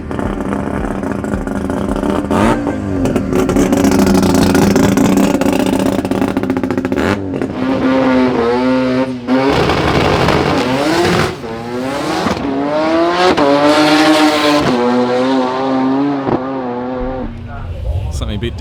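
A rotary-engined 13B drag car makes a street race run, with a loud, high, buzzing engine note that climbs through several gear changes. Crowd noise and a commentator's voice run underneath.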